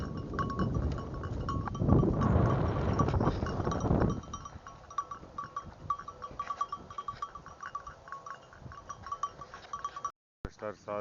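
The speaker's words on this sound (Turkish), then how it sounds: "Koyunlarımız gayet güzel otluyor." Grazing sheep bleat faintly amid a soft clatter of bells and tearing sounds at close range, with a steady low rumble early on.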